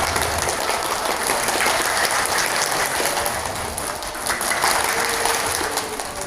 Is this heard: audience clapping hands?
yes